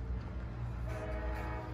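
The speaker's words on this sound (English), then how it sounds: "Now y'all probably hear in the background that train." A train rumbles steadily in the background at a busy rail hub, a low continuous roar with a faint tonal horn-like line rising midway, distant and unbroken.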